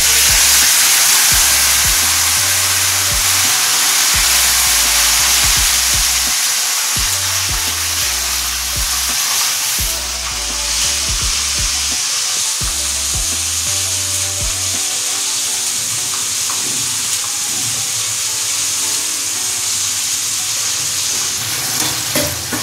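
Cumin, ginger, tomato paste and chilli fry in hot oil in a pan, a loud continuous sizzle and hiss with repeated low scraping knocks of a spoon stirring, steady throughout with no talking.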